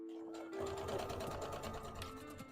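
A sewing machine stitches a seam in dark blue thread for a handmade Pokemon plush, a steady close whirring run that holds for the full two and a half seconds.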